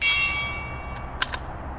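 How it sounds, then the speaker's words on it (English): A suppressed .22 LR round strikes a steel gong target, giving one sharp metallic ring that fades quickly, followed by a second fainter clang, with no voices. "And we'll go for the gong."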